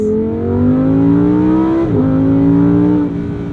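A Lamborghini Huracan Sterrato engine holds high revs around 4,000 to 5,000 RPM, a loud, close, steady droning tone that climbs gradually, dips briefly as if shifting, then carries on strongly.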